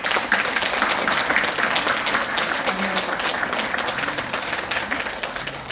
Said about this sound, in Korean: 멤버 한번 박수 쳐주세요.